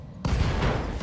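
A mech blows up in Roguetech, the modded Battletech game, a sudden loud blast that erupts from near silence and rolls on as a dense, rumbling roar.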